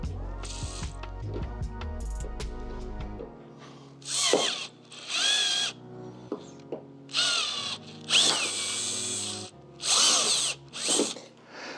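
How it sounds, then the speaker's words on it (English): A power drill with a slightly larger bit widens a hole in a van's metal body, whining in several loud bursts of a few seconds each, separated by short pauses, preceded by some clanking tool handling. "I actually use a slightly larger drill bit and go to the outside and widen up the outer hole."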